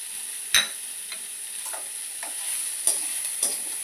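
Ginger and grated coconut sauté in a hot pan with a faint, steady sizzle, broken by a few sharp scrapes and clinks of a spoon stirring, heard close and without talk.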